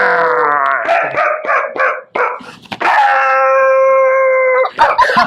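A man imitates a dog celebrating, voicing a close, loud sequence of long tonal howls broken by short yips and barks, ending with a sustained howl and a few quick yelps.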